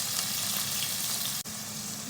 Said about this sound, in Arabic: عبال ما خلينا الخضار يتشوح